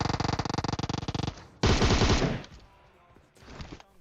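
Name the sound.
UZI gunfire in video game PUBG Mobile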